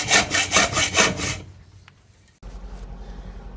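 A section of stainless steel exhaust pipe for a BMW R80 cafe racer being hand-sawn: about six quick, rhythmic rasping strokes up close, then a pause and a low steady hum.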